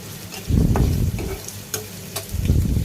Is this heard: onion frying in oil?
yes